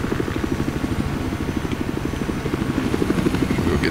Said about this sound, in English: That's a helicopter in front of you.